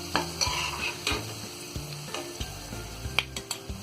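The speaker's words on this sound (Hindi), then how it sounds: "मीडियम फ्लेम पर रखकर ही हम आलूओं को फ्राई करेंगे" Potatoes fry in a pan over medium flame, a close sizzle broken by repeated scraping stirs and spatula knocks against the pan at an irregular pace.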